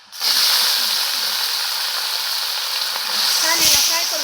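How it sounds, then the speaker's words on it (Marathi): Potato pieces hit hot oil already frying with chillies, setting off a loud, continuous close sizzle and hiss, with a brief stirring clatter near the end. "आता बटाट्याच्या फोडी टाकू आपण."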